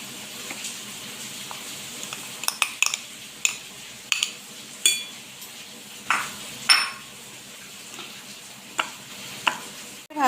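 Rice-flour cookie dough with coconut mixed by hand in a bowl: repeated short scraping and clinking strokes of a utensil against the dish, irregular and fairly close, over quiet background hiss.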